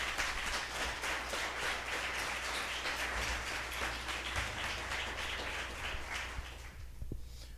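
A church congregation applauds after a Bible reading, a dense, sustained wash of many hands clapping that holds steady and then thins out toward the end.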